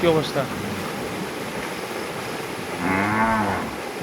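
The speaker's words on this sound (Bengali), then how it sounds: "গরুগুলোর খুবই কষ্ট হচ্ছে হ্যাঁ অবলা জিনিস তো এগুলোর খুবই কষ্ট হচ্ছে" Cattle stand in floodwater during days of heavy rain in Malaysia. A cow moos loudly at the start and again midway, with deep drawn-out calls over a steady wash of rain and water noise.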